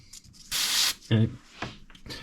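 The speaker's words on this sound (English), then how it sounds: "we're going to do a quick test spray" A short burst of airbrush spray hisses at about 30 psi for about half a second, followed by brief talking and faint handling noises.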